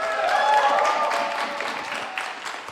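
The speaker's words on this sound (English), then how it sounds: "Please give a warm round of applause for viOLet." Audience applause at a StarCraft 2 esports match, WCS America 2014 round of 16: a steady, dense wash of clapping from a crowd, fairly loud and continuous throughout.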